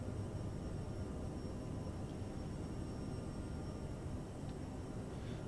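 Jet engines of a CRJ regional airliner in Microsoft Flight Simulator hold climb throttle, producing a faint, steady, low rumbling drone with a thin high whine, unbroken and without speech.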